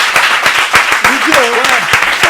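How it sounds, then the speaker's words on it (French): A studio audience breaks into applause, a dense, loud and steady clatter of clapping, while a voice speaks briefly over it. "Et ça s'applaudit."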